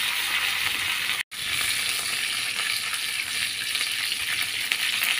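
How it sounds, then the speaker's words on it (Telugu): A tempering of three dried chillies, mustard seeds and curry leaves fries loudly in hot oil, a dense continuous sizzle broken by one brief dropout near the start. "పోపుకి కర్ర, కొంచెం ఆవాలు, కరివేపాకు ఇవన్నీ వేసేసుకుని"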